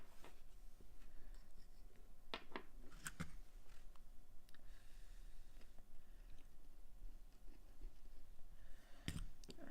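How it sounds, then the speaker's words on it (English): A bike brake or gear cable being cut on a workbench while a drift trike is built, giving a few sharp snipping clicks and crunches close by over a low background hum, with no talking. "when you're cutting cable"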